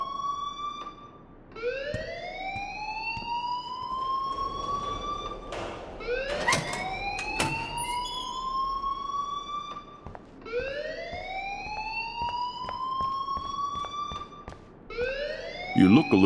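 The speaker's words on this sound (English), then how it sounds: "please turn off that alarm since that's your job" A siren-like alarm in Life Is Strange repeats its rising, whooping sweeps in a steady cycle, loud and unbroken, with occasional clatters and bumps in between.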